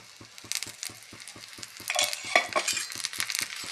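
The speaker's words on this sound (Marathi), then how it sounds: "आता आपण पराठा पलटून घेऊया. दुसऱ्या बाजूलाही तेल लावून घेऊया." A methi paratha is flipped in a hot pan and fries in oil, with a steady crackling sizzle and a rhythmic low tapping underneath, growing louder midway as the spatula scrapes and the oil spits, close up without speech.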